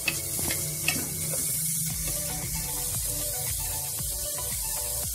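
Onions sauté in a pan for a Tamil-style veg pulao, giving a steady sizzle with scattered stirring clicks and scrapes close by.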